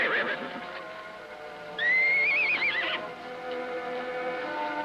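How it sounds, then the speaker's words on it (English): Horses neighing in a ranch setting, a loud, shrill whinny with a wavering pitch rising clearly above a steady background of other sounds, with quieter horse noises before it. "Better be getting the horses in, Renton."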